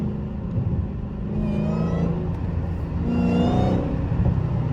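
A loud Dodge Hellcat accelerates hard on wet roads, its engine note climbing in pitch twice in succession with a heavy rumbling drone, heard from inside the car with no talking.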